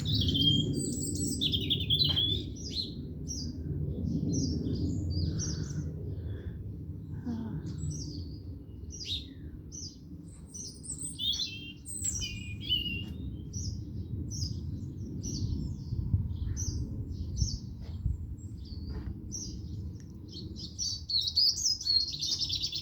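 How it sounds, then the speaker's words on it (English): Birds chirping and tweeting in a tree on a countryside morning, with many short calls scattered throughout over a steady low background rumble. "I'll hear a lot of sound in that tree branch. There's more birds."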